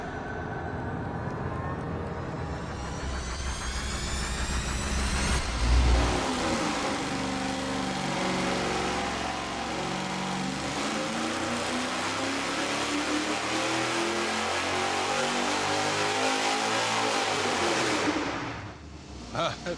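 A boosted V8 on an engine dyno, fitted with shorter stepped headers going from 1 3/4 to 1 7/8 inch, roars through a long full-throttle pull. Its pitch rises steadily for over ten seconds before it cuts back to idle.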